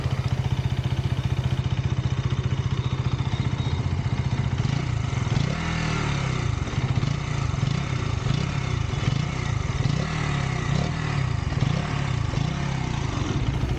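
A KTM Duke 200 motorcycle engine runs with a steady rattling idle, then revs rise and fall in several swells, loud and close.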